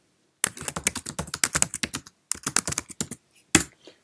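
Rapid, close keystrokes on a computer keyboard while tags are typed in, a dense run of sharp clicks, a brief pause, then another burst ending in a firmer thump, loud and clear against silence.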